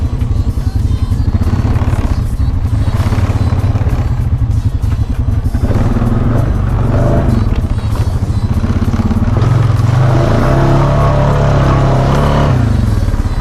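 Honda 300 ATV engine driving through a deep mud hole, a loud continuous engine drone with clattering and splashing throughout, rising in revs near the end.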